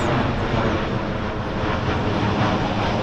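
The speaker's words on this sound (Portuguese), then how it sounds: "Avião da Gol." A Gol airliner flies overhead above a botanical garden in Brasília, a steady, loud, broadband engine roar that holds throughout.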